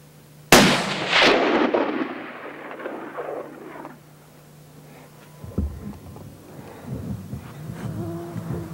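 A single sharp rifle shot during varmint hunting outdoors, loud and close, with a long rolling echo trailing off, followed by faint handling noises and rustle.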